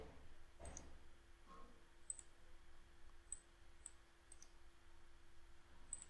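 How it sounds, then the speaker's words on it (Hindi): Computer mouse clicks while working in LibreOffice Impress, several sharp, faint, isolated ticks spaced irregularly over a quiet room-tone background, no talk. "राइट क्लिक करें,"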